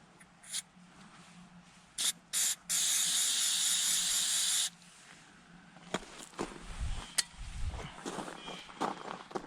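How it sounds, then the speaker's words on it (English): Turtle Wax label and sticker remover sprayed from an aerosol can onto a dealership sticker on a Ford Explorer: a couple of short hissing bursts, then one long steady spray lasting about two seconds, followed by quiet handling noises. "I'm just going to take some turtle wax label and sticker remover and spray it on here."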